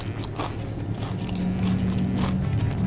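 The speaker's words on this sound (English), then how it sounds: "Super crunchy." Close, crisp crunching bites into homemade chocolate with cornflakes, hazelnuts and dried cherries, several irregular crackly bites and chews over a faint steady background hum, with no talking.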